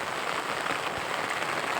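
Soft, steady rain patters on a surface, a continuous hiss of drops heard faintly throughout with no voices.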